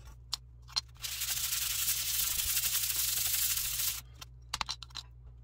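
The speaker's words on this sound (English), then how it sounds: "Use that to hold your piece to do your sanding." A thin piece of wood held in a small sanding block is sanded in a continuous burst of quick, gritty strokes lasting about three seconds, close and fairly loud, with a few light taps and handling knocks around it.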